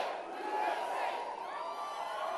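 A huge campaign rally crowd in Knoxville, Tennessee cheers and roars in a sustained, dense wash of voices, loud and continuous like a packed arena.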